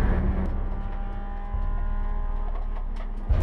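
The number 27 Mercedes SLS race car of Car Collection Motorsports on a Dubai endurance circuit, a steady droning engine note held close and loud, with a brief louder burst near the end.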